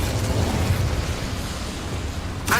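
A fire spell cast in the game Hogwarts Legacy gives a loud, continuous roaring burst that fills the clip, with a sharp flare of noise right at the end.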